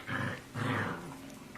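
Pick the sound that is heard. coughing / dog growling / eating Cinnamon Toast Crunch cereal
dog growling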